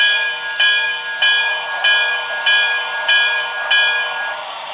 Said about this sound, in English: This engine has the bell sound